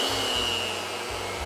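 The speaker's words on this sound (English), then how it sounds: "And now I beat this for 2 to 3 minutes." An electric mixer beats cake batter for marbled cocoa squares, giving a loud continuous motor whine that holds steady throughout with no voices.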